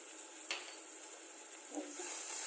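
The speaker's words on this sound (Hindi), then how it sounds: "ऑयल हमारा हो गया, इसमें हम जो लहसुन लिया था उसे डाल देते हैं।" Garlic dropping into a kadhai of hot oil for a veg Manchurian sets off a steady, moderately loud sizzle with a brief stir or splash at the start and a soft scrape later, and no voices.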